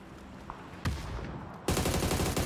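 Two bursts of rapid gunfire, the second louder and sustained, with a brief crack between, fairly close in a busy game soundscape.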